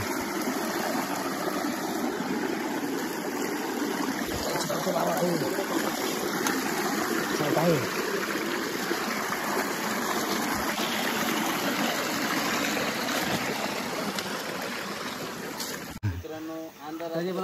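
A stream flows in the dark during a night-time crab hunt, making a continuous, even rush of water close by, with a thin high insect-like whine above it.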